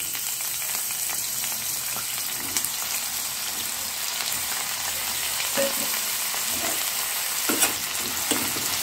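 Ingredients frying in hot oil in a pan while making chutney, a steady close sizzle and crackle throughout with a few louder pops and spatters, no talking.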